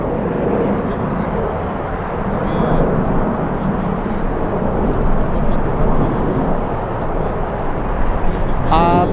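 An airliner departs at full power on LAX's longest runway, 7 Left, on a day of strong winds. A heavy, sustained low jet roar rumbles steadily for the whole stretch, mixed with gusty wind noise.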